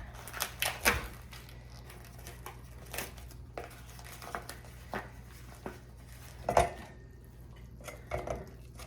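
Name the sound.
beating an egg in a bowl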